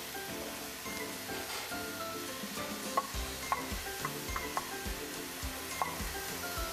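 Mushroom stems frying in a hot pan, a steady close sizzle with a spoon stirring through them and a few sharp clinks of the utensil against the pan, no voices.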